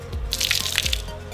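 Water poured onto a water-repellent T-shirt, giving a brief, soft splash and patter of drips running off the fabric, close and fairly quiet.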